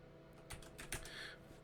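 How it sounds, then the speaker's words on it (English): Soft clicks of typing on a computer keyboard come in a short, uneven run of several keystrokes, close and quiet, with no voice over them. "Typed in test, and then I have to press enter"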